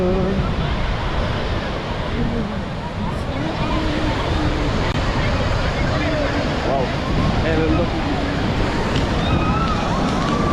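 Sea waves at Visakhapatnam beach roar as a loud, continuous wash of surf, with heavy wind noise buffeting the microphone throughout.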